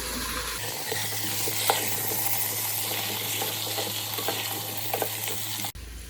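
Breakfast potatoes coated in spices get stirred in an Instant Pot, with a steady sizzle and soft scraping, a low appliance hum beneath and an abrupt stop near the end.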